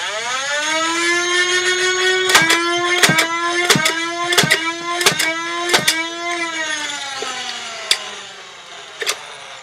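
A modified Nerf Rayven blaster running on 10.4 volts spins its flywheels up to a steady high whine, punctuated by several sharp bursts as darts fire, then winds down, heard close with no talking.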